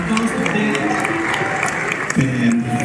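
A concert audience at the Auditorio Nacional claps and cheers for a song, a lively crowd applause with an amplified voice talking over it and rising again near the end.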